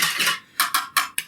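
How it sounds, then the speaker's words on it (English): Oil, vinegar and soy sauce whisked together in a bowl, several quick bright clinking strokes of metal against the bowl, close and loud, with no talking. "I'm going to whisk that together."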